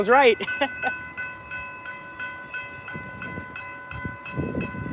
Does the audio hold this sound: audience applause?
no